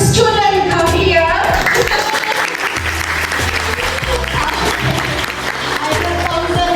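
Students applaud at a guest lecture by a guest speaker, a steady, loud, dense clapping crowd that fills the room throughout, with a voice speaking over it at the start.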